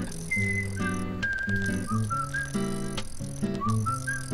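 A jaunty whistled melody from the Deadly Premonition game soundtrack, during a fishing scene, plays over plucked, bouncy accompaniment, with short sliding whistle phrases recurring across the clip at moderate level and no talking.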